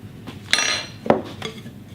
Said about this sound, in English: I use my spatula to make sure no mix wasted